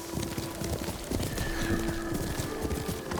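Horse hooves clop at a riding pace in the Ghost of Tsushima video game, a steady rhythmic thudding under a continuous ambient bed with a faint sustained tone, moderately close and fairly even in level.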